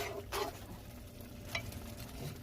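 Egusi toasting in a pot gives a soft, steady sizzle and frying crackle, with a couple of brief stirring scrapes rising above the continuous hiss.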